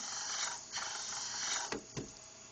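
A cam grinding machine works a Toyota 20R/22R camshaft, a steady bright grinding whine running throughout, close and loud, with two short sharp scrapes of contact near the end.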